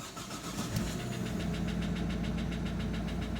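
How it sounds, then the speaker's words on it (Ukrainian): A diesel Opel Astra H Z17DTH engine idles steadily with a rhythmic, repetitive knocking pulse running through it after an overhaul, close and continuous. "Я думаю, чутно, що стучить у нас двигун."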